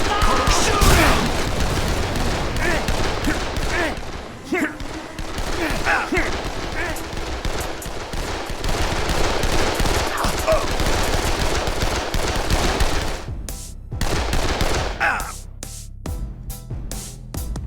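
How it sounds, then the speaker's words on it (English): Sustained automatic gunfire in the Dead Island Riptide game, loud dense bursts of shots mixed with booms and shouting voices, tailing into a few separated blasts near the end. "Shoot him!"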